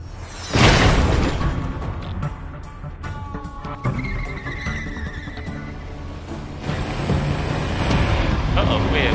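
A vehicle approaches in the Tales From The Borderlands video game, a loud engine roar and rumble that swells in sharply and stays heavy, mixed with game effects and some speech.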